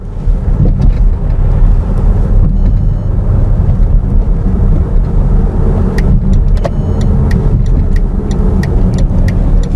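A 2010 Mercedes-Benz GL450 SUV, its engine running lean on both banks and lacking power, drones under load while accelerating, a loud steady low rumble with road noise and occasional interior clicks.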